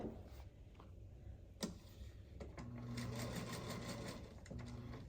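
A sewing machine stitches fabric along a marked line, its motor whirring in short bursts with a brief pause midway, faint and close, with no voices.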